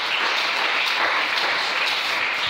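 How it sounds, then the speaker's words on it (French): A church congregation applauds the Lord, dense sustained clapping from many hands filling the room without pause. "Est-ce qu'on peut acclamer le Seigneur?"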